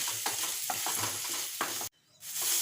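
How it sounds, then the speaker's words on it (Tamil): Chicken liver pieces are stirred and fried in a pan, a close, steady sizzle broken by repeated scraping strokes of a spoon, with a brief quiet gap before the frying returns. "ஈரல் போட்டு ஒரு ரெண்டு நிமிஷம் நம்ம வந்து நல்லா பரட்டி பரட்டி விடணும்"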